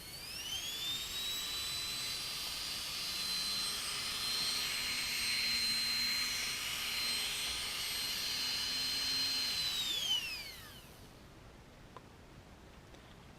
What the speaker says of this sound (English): I'm going to turn it on and have it at its maximum revs, and you should be able to hear.